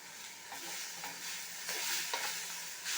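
Tamarind and coriander leaves sautéing in sesame oil for a coriander chutney, a steady soft sizzle with a few light stirring scrapes throughout.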